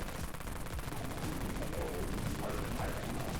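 Rapid automatic fire from the Avalanche MG14 machine gun in the Dead Frontier video game, a dense continuous stream of shots holding steady at moderate level without a pause.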